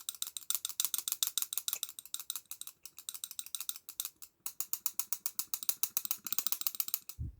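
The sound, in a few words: aluminum balisong butterfly knife being flipped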